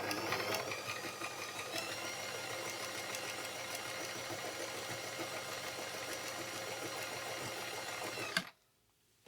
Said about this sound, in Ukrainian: Тихенько працює машина.